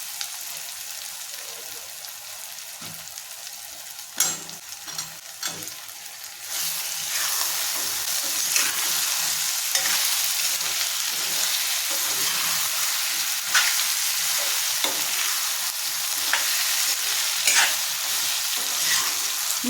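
Moringa drumstick pieces go into a hot pan for a salt fish curry, and a quieter sizzle swells into loud, steady frying after a few sharp clatters, with stirring throughout.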